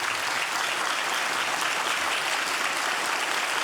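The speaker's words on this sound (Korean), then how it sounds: "한번 인사할 때 박수로 환영해 주시길 바랍니다." A church congregation bursts into dense, steady applause welcoming the elders during a Sunday worship service, a continuous wash of many hands clapping at even volume throughout.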